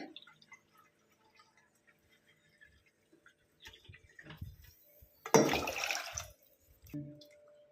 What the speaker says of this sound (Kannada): ಎರಡು ಗ್ಲಾಸ್ ನೀರು ಹಾಕ್ತೀನಿ ನಾನು ಇದರಲ್ಲಿ.